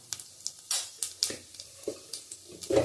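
Cumin seeds hitting hot oil for tempering, with bay leaf already in the pan, crackle in a series of sharp, short sizzling pops spaced irregularly, close and moderately loud with quiet gaps between bursts.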